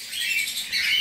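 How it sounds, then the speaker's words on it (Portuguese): A pair of canaries gives bright, high chirps and twittering calls, close and steady throughout the short moment, with no talk. "Eu tô com esse casalzinho aqui de canário."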